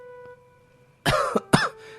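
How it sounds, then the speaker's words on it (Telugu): An ill man lying in a room at night with a cough and fever coughs in two harsh, close bursts after a brief quiet stretch, with no talking. "ఆయన గదిలో దగ్గుతూ పడుకుని ఉన్నాడు"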